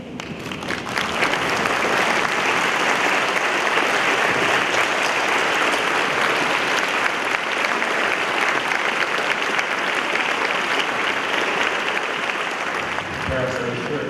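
A graduating medical class at a 2012 University of Toronto convocation stands and applauds their parents, partners and friends, a long, loud, even wash of clapping from a big crowd that tapers slightly near the end.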